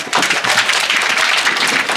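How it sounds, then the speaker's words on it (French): Audience applause at a reception honoring Michel Birame Faye, dense steady clapping filling the full two seconds, loud and close. "Des applaudissements, des applaudissements."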